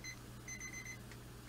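A timer beeps in two bursts of bright, high electronic tones over a steady low hum, fairly close and with no one talking.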